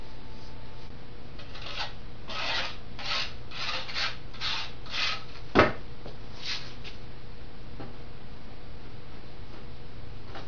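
A trowel scrapes tile mortar across panels in a series of rhythmic rasping strokes, close and fairly soft, with one sharp knock partway through.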